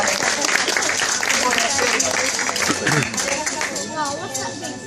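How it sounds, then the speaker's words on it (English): Audience applause at a parrot show, a crowd clapping loudly throughout while chatter and bird calls mix in over the top. "Let's give him a big round of applause for them coming."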